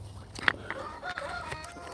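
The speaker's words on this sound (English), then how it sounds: "These right here are little duckies that I got from my friend." Khaki mix ducklings outdoors give high, thin peeps and chirps, several short calls scattered over a faint outdoor background, fairly close.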